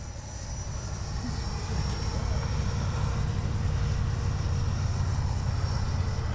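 HobbyKing Viper 64 RC jet in flight, a steady loud whooshing roar of the ducted fan that holds and swells slightly throughout.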